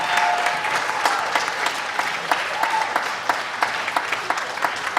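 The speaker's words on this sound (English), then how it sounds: "Tim, give it up for Tim." Steady audience applause at a storytelling night fills the room, dense clapping with a few sharper claps standing out, sustained throughout without any talking.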